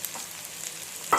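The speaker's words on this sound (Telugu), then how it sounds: "మొత్తం కలిసేటట్టు తిప్పండి." Chicken frying in a pan with turmeric, chili powder and salt, being stirred: a steady soft sizzle throughout, with a brief sharper scrape of the utensil near the end.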